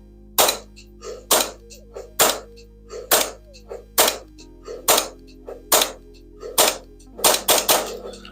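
A Vorsk gas blowback airsoft pistol fired with a 1911 magazine gives about a dozen sharp, close cracks, each with a slide clack, spaced roughly a second apart and bunching into a quicker volley at the end.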